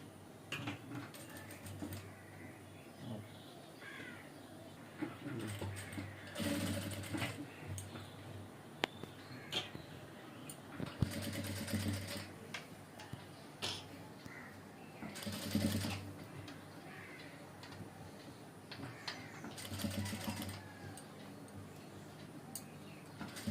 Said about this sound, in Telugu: ఇలా వెనక్కి తెప్పేసుకుని పైన కుట్టు వేసుకోవాలి.